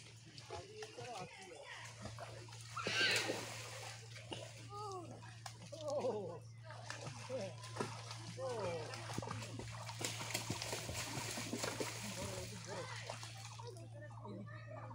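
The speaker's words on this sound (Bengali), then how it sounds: "জল ছিটকাচ্ছ কেন?" A learner swimmer splashes and sloshes water in a pool, with irregular splashes and a louder burst of churning water near the end, mostly under a coach's continuous instructing voice.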